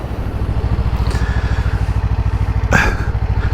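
A Honda CBR500R motorcycle engine rumbles loud and close in a steady, fast pulsing rhythm while being ridden, with a brief burst of wind noise near the end.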